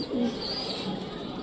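A pigeon held in the hand coos softly and close by, a low breathy murmur with a brief swell early on over steady background noise.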